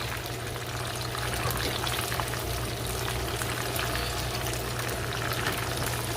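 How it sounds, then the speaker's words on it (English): Chicken wings fry in hot oil in a pan on a stove top, a loud, continuous crackling sizzle that stays dense and even throughout, with no talk over it. "I put them all back into the oil so they can get fried for a little bit longer"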